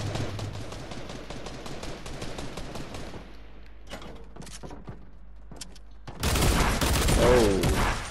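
Dual pistols fire in rapid bursts in a Fortnite match, a dense stream of sharp shots for about three seconds, then scattered single shots and a sudden loud blast of action near the end.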